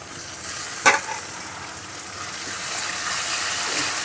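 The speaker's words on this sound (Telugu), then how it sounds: "కొద్దిగా పచ్చివాసన పోయేంత వరకు ఫ్రై చేసుకుందాం చూసారు కదండి మన అల్లం అయితే ఫ్రై అయిందండి" Ginger sizzles steadily in a hot pan, with one sharp stirring scrape near the start and a constant frying hiss throughout. No one speaks.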